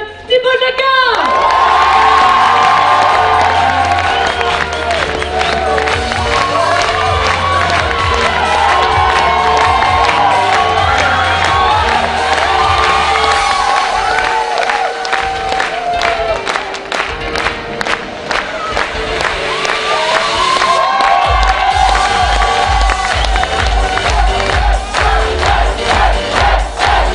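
Theatre audience at a performance show in Millau applauding and cheering, a loud dense crowd roar with shouts and whoops, music running underneath throughout, sustained the whole time.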